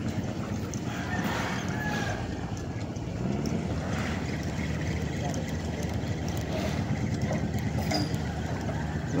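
A boat engine drones low and continuously nearby at sea, holding a steady rumble throughout with faint voices over it.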